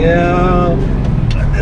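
A car engine revs while being driven, with a steady droning tone in the first half that gives way to rougher rumble, heard close under people's excited talk.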